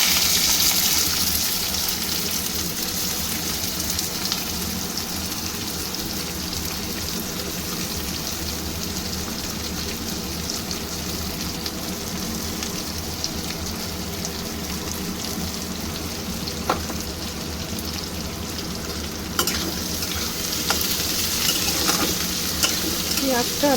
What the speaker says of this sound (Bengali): পেঁয়াজটা আমি একটু তেলের মধ্যে লাল করেই ভাজবো।